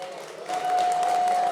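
An expo panel audience applauding in a steady crowd wash that swells partway through, with a sustained tone ringing beneath the clapping.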